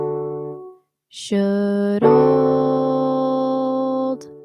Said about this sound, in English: Unplanned dissonance, where I'm singing out of tune, would sound like this.